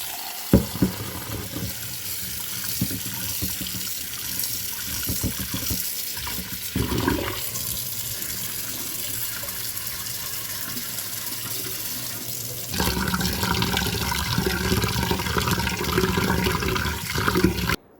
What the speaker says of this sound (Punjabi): ਪਹਿਲਾਂ ਆਪਾਂ ਇਹਨੂੰ ਚੰਗੀ ਤਰ੍ਹਾਂ ਧੋਵਾਂਗੇ